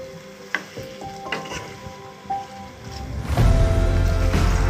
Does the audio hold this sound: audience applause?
no